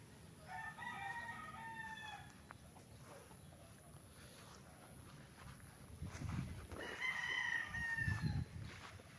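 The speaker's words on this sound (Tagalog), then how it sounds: "Daming manok, oh." Fighting cocks on a game farm in Pagsanjan, Laguna, crowing in two separate calls, faint and somewhat distant, over quiet outdoor background.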